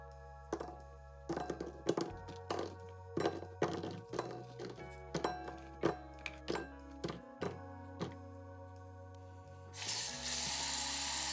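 A knife chops bitter gourd into small pieces for a Sri Lankan bitter gourd fry, with about fifteen crisp, evenly spaced thunks on a board over a low hum, then a steady hiss takes over at the end.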